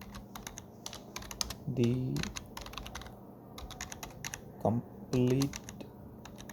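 Computer keyboard typing in quick bursts of clicking keystrokes, close and clear, as a Java file name is entered; someone speaks Hindi in short phrases between the bursts.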